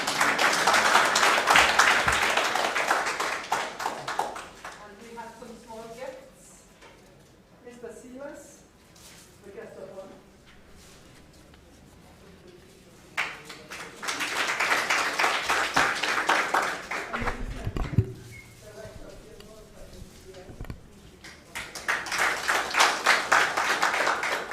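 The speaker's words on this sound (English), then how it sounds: "Another hand of applause for her trying to speak her best Kinyarwanda" Meeting audience clapping loudly in bursts, with a long round of applause at the start, another in the middle and a third at the end, separated by someone speaking over a microphone.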